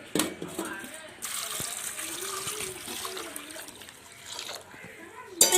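Nutmeg being rinsed for pickle under running tap water, a steady close splash and gush with someone talking over it.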